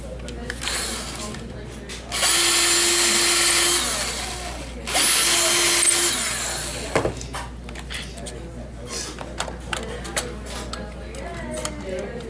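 A power drill bores holes through a block of wood in two loud, steady bursts of about two seconds each, with quieter clicks and handling noise around them and some talk.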